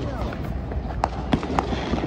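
Fourth of July fireworks go off in a few sharp, distant pops spaced about a second apart, partly buried under people talking and a busy outdoor background.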